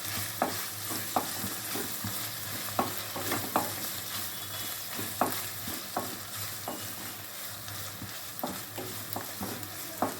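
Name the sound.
stirring ginger garlic paste and spices frying in pan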